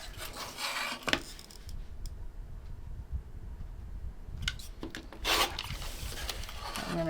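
A paper-pieced quilt block being trimmed along its solid lines, heard as close, scratchy rubbing and cutting strokes with occasional soft knocks and a brief rustle of paper and fabric.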